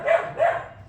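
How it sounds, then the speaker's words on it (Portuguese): A dog barks twice in quick succession, close and fairly loud, each bark short and sharp. "O cachorro resolveu latir"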